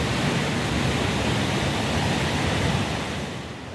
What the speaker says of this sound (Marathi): हा नांगरता धबधबा म्हणजे पाण्याचं रौद्र रूपच आहे. अरुंद आणि खूप खोल दरीतून पाणी खूप वेगाने वाहतं. त्यामुळे जोराचा आवाज इथे ऐकायला मिळतो